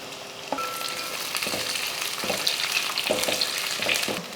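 Fried bitter gourd sautéing with shallots in a pan, a steady moderate sizzle broken by periodic scraping stirs, near and without voices.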